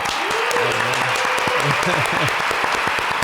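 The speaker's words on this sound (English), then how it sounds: "you can't hear the real applause that we brought with it. It's a symphony of applause." Studio audience applause welcoming a guest onto a talk show, a dense, steady clapping that runs the whole time while someone talks loudly over it.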